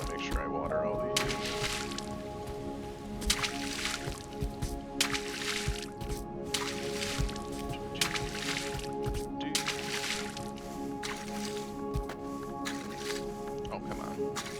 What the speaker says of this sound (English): I'm gonna make sure I water all these